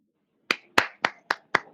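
A few audience members clap during a church sermon: five sharp, separate claps spaced evenly over about a second, fairly close and with no voices.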